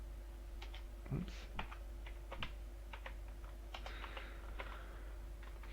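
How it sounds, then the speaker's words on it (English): Typing on a computer keyboard, quiet irregular clicks and short bursts of keystrokes over a low steady hum, close but faint, with no talking. "Forgive my typing there."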